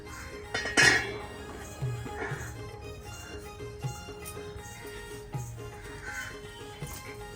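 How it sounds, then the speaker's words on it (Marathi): An iron griddle set down on a stove, several metallic clanks and clinks spaced out over a quiet background, with the sharpest knock near the start. "आता आपण हा तवा चुलीवर ठेवूया"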